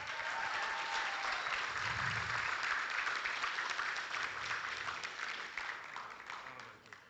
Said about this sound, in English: please extend this gentleman a big round of applause